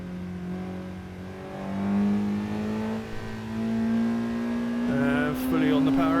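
A car on a track lap, engine note climbing steadily as it accelerates hard out of a left-hand corner after a downshift, loud and close throughout with a brief gearchange near the end.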